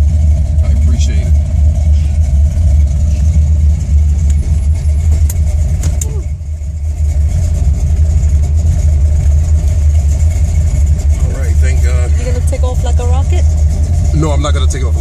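A Buick GSX Regal with a Stage-1 455 engine idles while warming up, a steady low rumble running throughout, loud and close, briefly dipping midway, with people talking over it.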